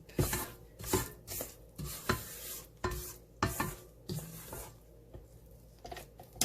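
A spatula scrapes cake batter around a mixing bowl in a series of short, rhythmic strokes with soft knocks against the bowl, fairly close and moderately quiet, with no speech.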